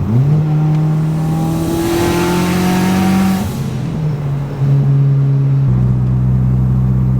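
Stock-block turbocharged Mitsubishi Galant making about 400 wheel horsepower, with a 3-inch downpipe and partly 3-inch exhaust, pulls hard on a street, its loud engine climbing through the revs and shifting gears, heard from inside with no talking.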